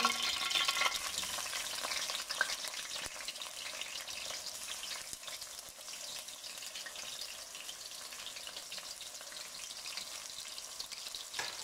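Onions frying in hot oil in a pot for beef mince biryani, a steady dense sizzle and crackle that runs unbroken and close, fairly loud with no talking over it.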